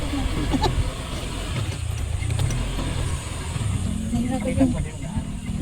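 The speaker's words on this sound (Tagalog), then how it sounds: "Nahirapan yung motor natin." Motorcycle engine labouring on a rocky, bumpy road during a road trip to a limestone cave campsite, a continuous low drone with rattles and jolts, while a person speaks over it.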